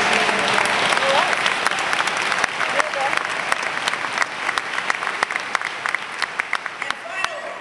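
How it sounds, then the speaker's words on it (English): Audience at a national conference on volunteering and service applauds a volunteer agency, steady sustained clapping throughout with sharp individual claps standing out near the listener. "we're so proud of their outstanding work that we have to give them a round of applause."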